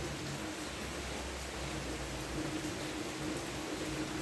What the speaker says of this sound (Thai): ตอนนี้ก็ ฝนตกค่ะ ตอนนี้ลงเม็ดหนาค่ะ